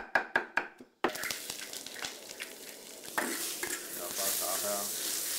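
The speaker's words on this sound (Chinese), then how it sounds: "翻炒至五成熟，" Diced taro and shiitake mushrooms stir-fried in a hot wok, opening with a few sharp spatula clacks before a steady loud sizzle with scraping stirs that swells louder toward the end.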